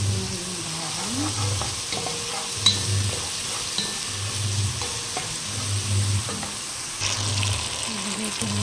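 Tomatoes, carrots and garlic stir-fried in a pan, a steady close sizzle with scraping stir strokes running throughout, no voices.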